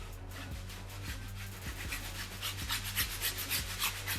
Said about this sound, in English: I'm going to go ahead and lather up these insoles and then clean our laces.